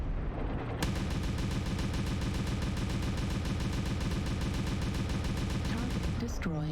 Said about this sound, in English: want to see how much damage he can take here. From our RAC2s.